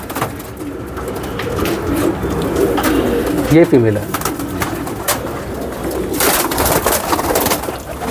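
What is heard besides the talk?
pigeons cooing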